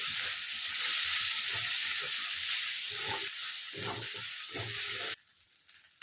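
Boiled pasta being mixed with egg masala in a hot pan, a steady hissing sizzle with soft scraping stirs that cuts off abruptly near the end, leaving quiet.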